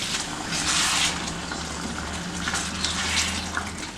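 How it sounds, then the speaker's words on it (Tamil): Water pours steadily into a cooking pot for a village-style dried fish curry, a continuous close rushing splash lasting a few seconds with no talking. "இப்போ நமக்கு தேவையான அளவுக்கு தண்ணியும் ஊற்றிக்கலாம்"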